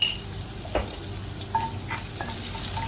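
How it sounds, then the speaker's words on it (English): Garlic and red chili flakes sauté in a pan with a steady soft sizzle, punctuated by a few light stirring clinks of a utensil against the pan, close and fairly quiet. "Saute it well and add 1 teaspoon of red chili flakes."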